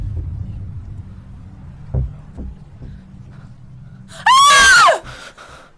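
A woman gives one short, loud, piercing scream that rises and then falls, after a stretch of quiet rumbling and a few thuds, in a Bollywood horror scene.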